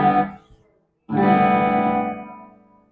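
A distorted electric guitar rings out with effects, plays a short burst, cuts off briefly, then strikes a long sustained chord that slowly fades.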